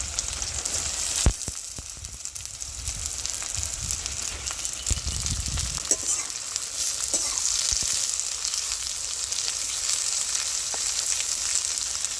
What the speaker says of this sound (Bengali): প্রথমে বেরেস্তা ভেজে নেব, বেশি করে তেল দিয়ে দিচ্ছি।